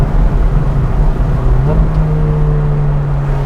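A Ferrari 458 Speciale is driven, its engine a steady, loud interior drone that shifts pitch upward once and then holds level.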